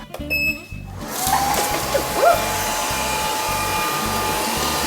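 A voice mimics the steady whirring drone of a robot vacuum cleaner, a continuous noisy hum that holds for several seconds after a brief sharp onset.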